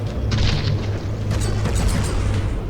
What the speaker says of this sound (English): I saw some explosions, so there was definitely a hit.